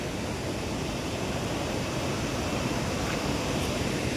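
Kote Abbe waterfall in Coorg runs with reduced flow after a season of little rain, giving a steady, even roar of rushing water that fills the whole scene, with no voices.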